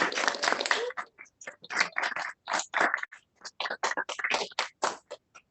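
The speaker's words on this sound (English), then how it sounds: "let's give Rahil one more round of applause." A small audience claps for a presenter after a talk on the genomics of pesticide-remediating bacteria. The claps are faint, sparse and uneven, coming in short scattered bursts with gaps between them.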